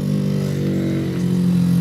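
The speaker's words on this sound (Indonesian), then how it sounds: "Nih, mesinnya sudah hidup ini" A Yamaha RX King motorcycle engine idles steadily nearby, a continuous low two-stroke drone with a faint buzzing rattle and no voices.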